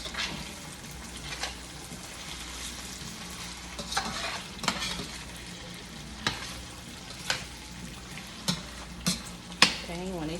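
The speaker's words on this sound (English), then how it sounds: "You want to keep on turning your potatoes, at least that's what I do, so they don't stick to the bottom of the pan" Potatoes frying in a pan for breakfast, sizzling steadily while a spatula turns and scrapes them, with sharp scraping clicks recurring every second or so near the mic.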